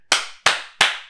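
Three sharp, loud hand claps ring out close by at an even pace, each a crisp smack followed by a short decay, with no talk over them.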